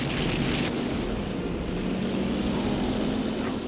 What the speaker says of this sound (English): Locate the source of the engine sounds and make sure they're not Jap landing craft